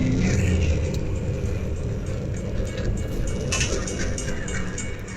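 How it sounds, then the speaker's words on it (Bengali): A train starts up in a horror video game, a loud, steady low rumble with mechanical clatter that holds throughout without a break. "ট্রেন তো স্টার্ট হয়ে গেল।"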